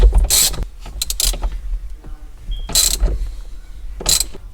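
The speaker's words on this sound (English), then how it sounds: "We'll go ahead and put our 13 mil bolt in." A 13 mm bolt is tightened on a steering wheel with a ratchet, giving bursts of sharp clicking mechanical ratcheting separated by quieter gaps, close and fairly loud.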